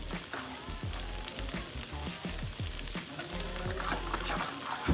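Spice powders of chili, coriander, pepper and turmeric land in frying onion, tomato, green chili and ginger for a Kerala chicken curry, giving a steady, dense sizzle with faint stirring scrapes throughout.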